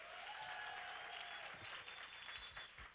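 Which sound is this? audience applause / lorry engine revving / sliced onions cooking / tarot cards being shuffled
audience applause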